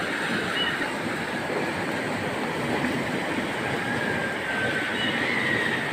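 Heavy typhoon rain from Typhoon Tino pours in a dense, steady roar, loud and continuous with a broad rushing wash and no talking.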